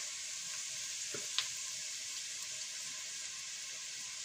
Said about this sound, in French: Et là, je vais venir torréfier un peu les épices. Donc, hop, un peu de curry et un peu de gingembre.